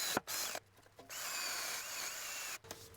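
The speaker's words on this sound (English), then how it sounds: "For that, I have a drill with a wire wheel." A power drill with a wire wheel whirs steadily for a couple of seconds, cleaning threads on car suspension parts, starting and stopping with short bursts; faint, with a scratchy buzzing texture.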